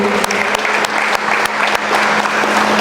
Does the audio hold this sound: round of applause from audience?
yes